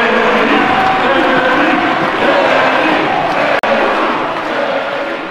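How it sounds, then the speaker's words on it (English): A World's Strongest Man crowd roars and cheers wildly as a strongman rips off his shirt, a loud, continuous wall of shouting voices with no break. "and the crowd went wild"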